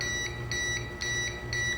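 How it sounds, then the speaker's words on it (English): Repeating electronic alarm beeps from a Cinematronix 3D Z-Screen swinger unit, steady high-pitched tones pulsing about twice per second over a low background hum, close and alone. "and beep at you for 12 seconds"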